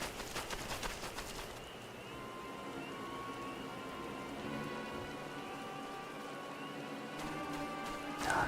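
Steady rain pours down in a Final Fantasy game scene, a dense, continuous patter with sustained musical tones running beneath it and no talking.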